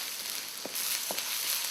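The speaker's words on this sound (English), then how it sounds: "add the ginger. Let it fry a little bit." Ginger fries in a pan for Kerala fish curry, a steady broadband sizzle with a few soft stirring knocks, close and fairly quiet.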